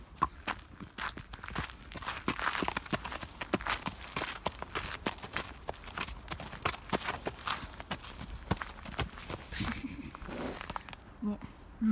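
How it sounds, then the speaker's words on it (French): Steady hoofbeats of a barefoot, unshod horse clip-clop on asphalt in an irregular walking rhythm, close by, with faint outdoor background and occasional voices. "les chevaux pieds nus peuvent marcher sur le goudron"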